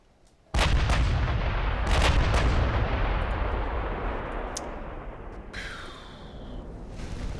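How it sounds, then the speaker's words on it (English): A 16-inch battlecruiser gun fires in Ultimate Admiral: Dreadnoughts as one sudden loud boom, followed by a long rumbling roar that slowly fades, with a faint rushing sound near the end. "for the singular 16-inch gun, I have 9 shells left"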